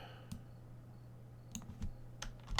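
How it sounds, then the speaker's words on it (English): Someone types a command on a computer keyboard: a few quiet, separate key clicks spaced out, ending in a quicker cluster of taps, close and soft with no talking. "let's go ahead and get rid of this right here and type in make me rich"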